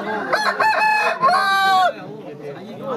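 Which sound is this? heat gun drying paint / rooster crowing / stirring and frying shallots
rooster crowing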